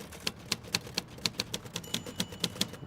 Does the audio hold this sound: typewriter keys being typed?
yes